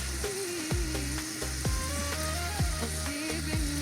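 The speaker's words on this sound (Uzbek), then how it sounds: "Keyin olib turar ekanlar tovuqni qovurib olib birpas." Chicken fries in hot oil with a steady, close sizzle, broken by repeated low thuds and scraping from handling in the pan.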